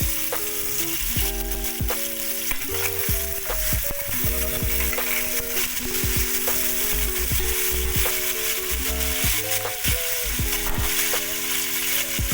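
New potatoes with a little salt fry in a pan, giving a steady close sizzle throughout, with scraping stirs of a utensil against the pan coming every second or so.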